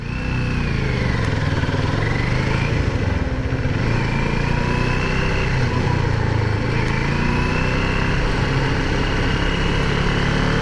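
A motorcycle engine drones steadily while riding, close and loud throughout with a constant throaty hum and slight shifts in pitch.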